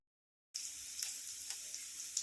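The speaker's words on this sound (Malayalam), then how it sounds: "ഇനി ഇതിലേക്ക് പൊടിയായിട്ട് അരിഞ്ഞ് വെച്ചിരിക്കുന്ന സവാള ഇട്ട് കൊടുക്കുക." Chopped onion dropped into hot oil with popped mustard seeds, a sudden loud sizzle that starts after a silent half second and holds steady and close, with faint crackles.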